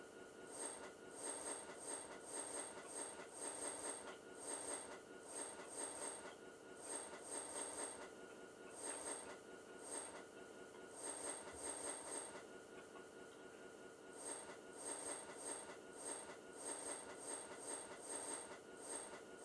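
A metro train rolls along the rails with repeated high-pitched wheel squeals over a rumbling clickety-clack, loud and continuous with no talk.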